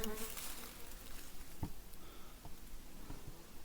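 A dense, steady buzzing of many honey bees close by at hives, humming continuously with a few faint taps underneath.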